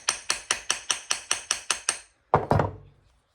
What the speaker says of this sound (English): Okay, just tap, tap, tap.